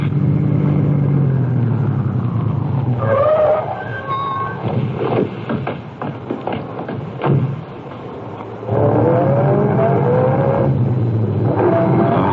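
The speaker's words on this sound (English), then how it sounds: "I shall stop the car now and let you off." A car engine rumbles steadily, drops to a lighter idle as the car stops, then builds again as it pulls away, with loud continuous engine noise throughout.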